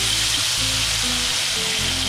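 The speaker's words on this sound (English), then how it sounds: "And I'm going to fry the potato first." Potato pieces frying in hot oil sprinkled with sunflower seeds, giving a steady, close, even sizzle throughout with no talking.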